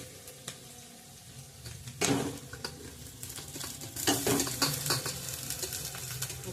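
Rice sizzles in ghee in a pan as a spoon stirs and scrapes it, with bursts of louder frying and light metallic clinks.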